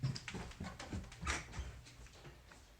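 Puppies in a litter whimpering and squeaking softly in short, broken bursts, close by amid quiet rustling.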